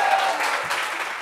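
Studio audience clapping during a French talk show discussion about sharing household chores, a brief, steady burst of applause at moderate level with no speech over it.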